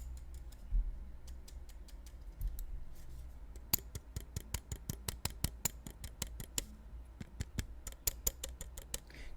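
A Finalmouse Starlight 12 gaming mouse, its left button loose and faulty, gives quiet sharp clicks. They start after a few seconds of near silence, then repeat quickly and irregularly, close up with no talking.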